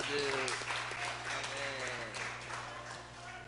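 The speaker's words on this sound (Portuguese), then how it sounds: "palmas para Jesus" A church congregation claps and applauds, a soft dense wash of clapping mixed with voices and a sustained low hum, fairly quiet throughout.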